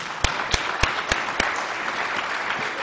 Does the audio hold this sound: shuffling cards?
no